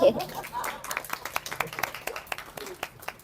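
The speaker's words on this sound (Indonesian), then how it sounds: "Tepuk tangan buat mereka." A short burst of audience clapping at an Indonesian talk event, uneven individual claps rather than a dense roar, over a faint room murmur.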